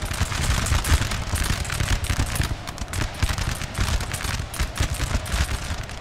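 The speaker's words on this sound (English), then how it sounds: "I want to see if I can get shots off with these cannons." Massed cannon artillery fire from the Napoleonic battle game Napoleon: Total War, dense overlapping booms and crackling volleys rolling on continuously and loudly with no gaps.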